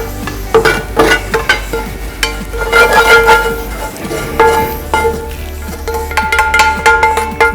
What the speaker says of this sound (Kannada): ಕಂದು ಬಣ್ಣ ಬರೋವರೆಗೂ ಇದನ್ನು ಫ್ರೈ ಮಾಡಬೇಕು.